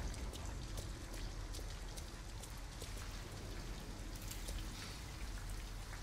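Rain in Detroit: Become Human falls as a steady, dense patter of drops on surfaces, with a low background rumble throughout and no voices.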